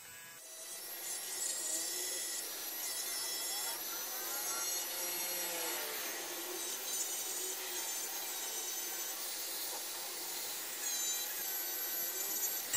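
Steady rasping strokes of a small file take the burr off a handmade metal ring, continuous fine scraping with a bright, squeaky edge, close but fairly quiet, with no speech.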